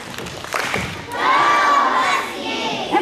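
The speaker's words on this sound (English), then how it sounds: "So Husky cheer for Miss Janowski's class" A school class of children gives a loud group cheer at a morning meeting, starting with a thump and scattered shouts that swell into a sustained crowd of young voices.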